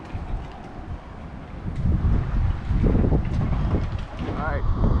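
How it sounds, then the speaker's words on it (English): Strong gusting wind of around 25 to 30 mph buffets a boat's back deck, roaring and swelling in waves with heavy microphone rumble, loud and close. "We're getting a lot of wind today."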